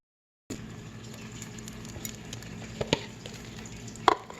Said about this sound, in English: my scrambled mixture into the skillet, which is already hot. That's why it made that sizzling.